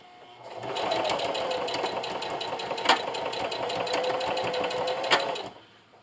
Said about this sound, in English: I'm over here at my sewing machine, and like I said, I'm going to be using a straight stitch today